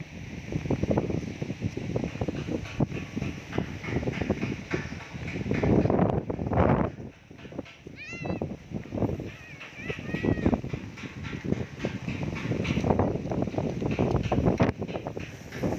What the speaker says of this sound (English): Wow, the wind has picked up more.